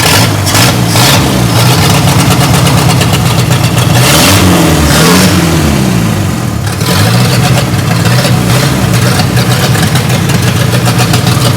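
A 1963 Pontiac LeMans Trophy 4 engine running without an exhaust, loud and close, idling roughly and revving up in a couple of swells before settling back to a rattly idle.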